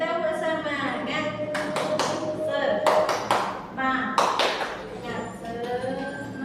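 A classroom clapping cheer: short clusters of quick, crisp hand claps burst out in a patterned rhythm, interleaved with a person talking over a steady background tone.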